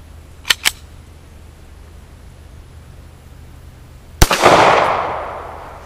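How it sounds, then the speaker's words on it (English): A Stallard Arms JS 9mm pistol firing non-lacquered steel case ammunition, one loud sharp shot ringing out with a long echoing tail after two small metallic clicks, with no talk. "I have a non-lacquered steel case. I'm gonna load that in, fire it down,"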